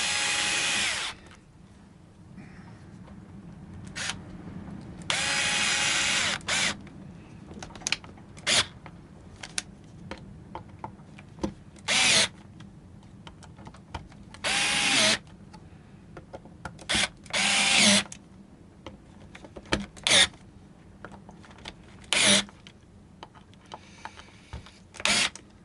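A power drill drives screws into a vintage Japanese-made Westone Thunder 1 guitar in about a dozen short, sharp whirring bursts of varying length, separated by quiet handling and small clicks.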